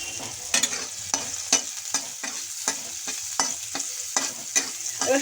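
Chopped garlic fries in a pan with dried chilies nearby, a soft sizzle broken by about a dozen regular, close scraping spatula strokes.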